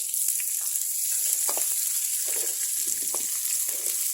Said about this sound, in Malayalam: ശേഷം നന്നായിട്ടൊന്ന് ഫ്രൈ ചെയ്തെടുക്കാം.